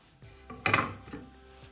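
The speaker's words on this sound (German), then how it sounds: "Zuallererst habe ich etwas Öl in meiner kleinen Pfanne heiß gemacht und gebe jetzt die Zwiebel" Chopped onion drops into hot oil in a small pan, making a brief clatter of pan and utensil with a short sizzling burst, fairly quiet and close, with no talking.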